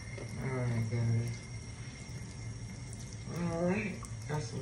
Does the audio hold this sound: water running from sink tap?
yes